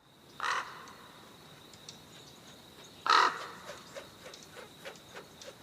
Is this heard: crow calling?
yes